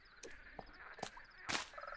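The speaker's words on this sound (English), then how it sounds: "We have our frogs hanging about because it is a bog." Frogs croaking in a Minecraft mangrove swamp bog, a few short separate croaks and chirps spaced across a couple of seconds, quiet and close, with no talking.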